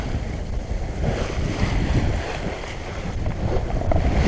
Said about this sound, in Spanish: Ya tenemos viento en el corredor entre Gran Canaria y Tenerife